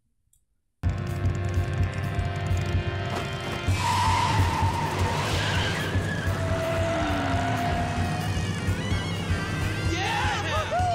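A race car in the animated series The Legend of Korra skids with rising and falling tire squeals over a loud, constant engine roar, the screeching growing more intense partway through after a brief silent start.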